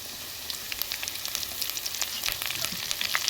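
Dried chilies and curry leaves fry in hot oil with a dense, steady sizzle full of crackling pops and spits, close and fairly loud, with occasional stirring and no speech.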